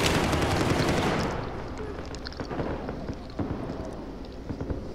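Dense Battlefield 4 multiplayer gunfire, a loud sustained barrage that thins into scattered, sharp shots and distant pops.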